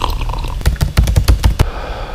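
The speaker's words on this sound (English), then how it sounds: "typing on a keyboard" Rapid clatter of keystrokes on a computer keyboard, a burst of about a dozen sharp, close taps over roughly a second, preceded by softer background noise and ending abruptly into quiet room tone.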